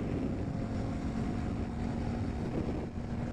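A Honda Grom motorcycle climbs a hill with its engine holding a steady, even drone, mixed with heavy, continuous wind rush across the microphone.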